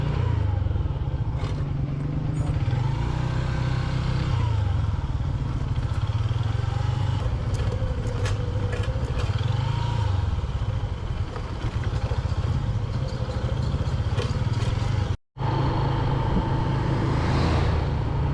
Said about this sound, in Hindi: बस ये पत्थरों में जो है बाइक चला रहे हैं